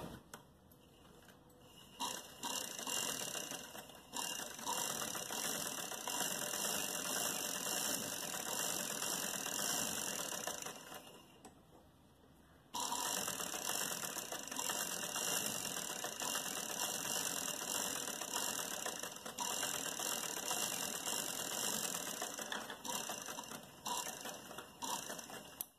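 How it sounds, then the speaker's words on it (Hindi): A sewing machine stitches a designer sleeve with a fast, continuous rattling whir that runs for long stretches, dipping quieter once and stopping briefly midway before resuming. "अब हम फिटिंग की सिलाई करते हैं।"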